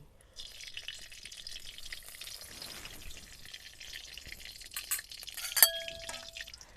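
Ghee melting into hot mustard oil in a wok gives a soft, low sizzle that runs steadily, with a brief sharp clink of utensil near the end and no talking.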